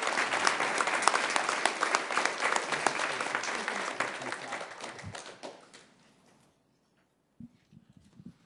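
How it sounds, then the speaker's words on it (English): A room applauds at a Sioux Falls city council meeting, with steady clapping that fades out after about six seconds into near silence before a few faint knocks and shuffles. "Let's give Stacy and everybody associated with this a round of applause."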